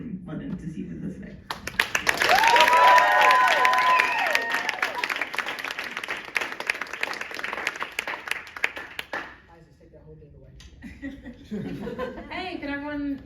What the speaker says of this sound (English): give a hand clap for Storm Cecile